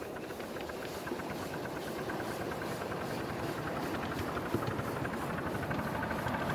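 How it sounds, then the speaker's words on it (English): A cold steam locomotive on a miniature railway eases away on a light regulator with its cylinder drains open, giving a steady, loud hiss and rumble with faint rhythmic chuffing throughout, no talk. "Just a touch of regulator. The engine's got cold, so I'll leave the drains open for a moment."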